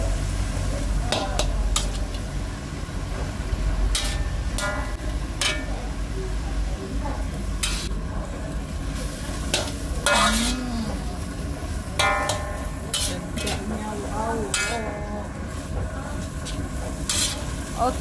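Fern shoots are stirred in a pan with onions, anchovies, chili and egg, giving a steady sizzle and repeated sharp spatula scrapes and knocks, with someone talking over them.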